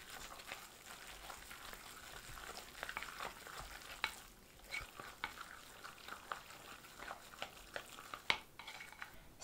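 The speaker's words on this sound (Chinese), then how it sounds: "顺着一个方向搅拌，多拌一会儿。" Meat filling for a steamed Beijing meat roll is stirred in one direction in a bowl, making soft wet squelching with scattered light clinks of utensil against the bowl, faint and close, with no talking.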